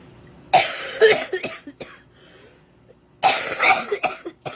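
Two separate coughing fits, each a burst of harsh, close coughs followed by quieter rasping coughs, with a short quiet gap between them.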